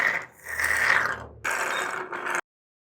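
BMW M62 V8 engine rotated on an engine stand, giving two loud ratcheting mechanical passes of the stand's gear mechanism separated by a short pause, close and alone.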